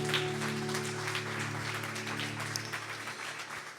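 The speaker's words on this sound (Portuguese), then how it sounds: "Você quer dar um aplauso a Jesus?" A church congregation applauds in a steady patter of many hands, moderately loud, with a sustained musical drone underneath.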